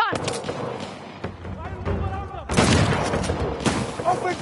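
Shotgun blasts and gunfire in Uncharted: The Lost Legacy, loud bursts of shots with a booming blast midway and another near the end, mixed with game voices speaking.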